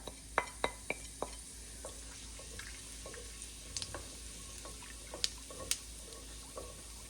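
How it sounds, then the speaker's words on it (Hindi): Whole cumin seeds sizzle quietly in a cup of hot oil previously used for frying onions. A soft background hiss runs under several sharp pops and clicks, clustered near the start and scattered later on. "1 कप वही ऑयल हमने यूज़ कर रहे हैं जिसमें हमने अनियन फ्राई की थी, और इसमें डाल देंगे साबुत ज़ीरा"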